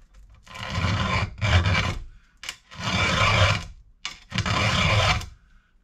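A hand file rasping across a tooth on a chainsaw chain, four long close strokes with short pauses between them, alone and fairly loud.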